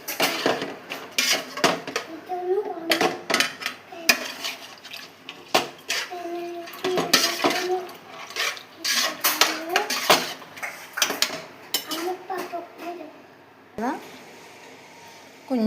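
Chicken curry stirred in a pot over a low flame, with a spoon scraping and clinking against the metal throughout, close and busy, while a person talks over it.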